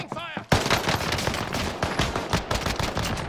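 Pistol shots fire in a rapid burst in a video game, loud and close, a quick string of cracks following a brief voice at the start.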